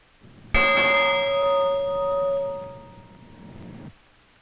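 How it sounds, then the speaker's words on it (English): The Nicholas bell rings once to open a Marine Corps heritage parade, a single loud struck tone with clear overtones that sustains and slowly fades over about three seconds, alone without talk. "The ringing of the Nicholas bell begins the parade."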